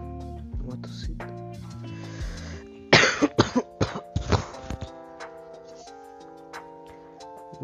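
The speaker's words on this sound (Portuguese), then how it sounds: "Uma tossida." A burst of coughs around the middle, several harsh hacks in quick succession over a busy Bloons TD Battles 2 game music background with tonal notes.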